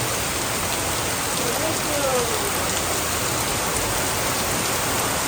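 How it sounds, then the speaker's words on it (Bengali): Heavy rain pours down steadily, a loud, unbroken wash of hissing spatter up close that holds evenly throughout with no pauses. "সুপার বৃষ্টি হচ্ছে সুপার সুপার সুপার"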